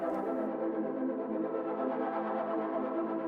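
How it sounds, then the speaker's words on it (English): A Reese bass, a deep sub bass and synth chords play together in a song remix, forming a dense, sustained electronic wall of sound at steady loudness with no talking. "Let's play the Reese and the sub and the chords together."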